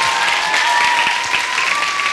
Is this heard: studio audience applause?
yes